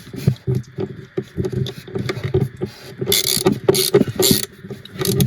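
A screwdriver turns a screw into a cupboard hinge inside a Bürstner motorhome, making close, rapid ratcheting clicks in irregular bursts with brief pauses.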